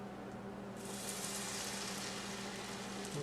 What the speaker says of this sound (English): you're going to hear a nice sizzle when we pour this batter in